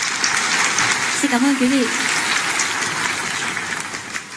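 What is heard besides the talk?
audience applause after a performance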